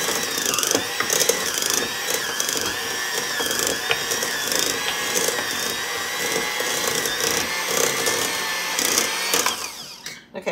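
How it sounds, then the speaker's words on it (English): A hand mixer whirs and rattles steadily as it shreds cooked pork for chile verde in a crockpot, a continuous grinding mechanical drone with clattering ticks, cutting off abruptly at the end. "So this is how I shred pork. I just use my mixer."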